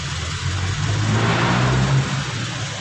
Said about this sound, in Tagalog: Pati ito, singaw yung tambutso niya, ang lakas.